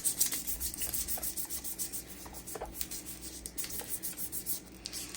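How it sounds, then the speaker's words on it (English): Orange bell pepper skin being lightly scuffed before grilling on steak kabobs, a soft, close, continuous rubbing and scraping with small irregular strokes and no talking. "And it's just scuffing it just enough, right?"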